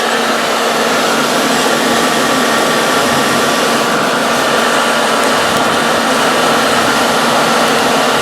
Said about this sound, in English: hit it with a hairdryer.